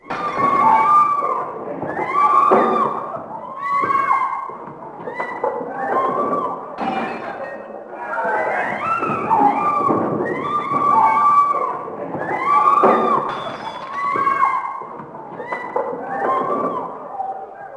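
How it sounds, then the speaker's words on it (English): Bully video game audio: repeated dull thuds and punches come in bursts with a woman's strained, cry-like screams over them, a chaotic fight-like scuffle with objects breaking and clattering, fairly loud and close. "you can hear a woman screaming, punches landing, and objects breaking in the background."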